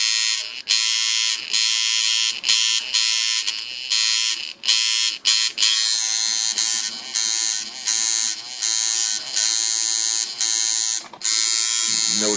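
A homemade coil tattoo machine with hand-wrapped coils runs in a loud, close, high-pitched electric buzz, cutting in and out in short bursts of varying length.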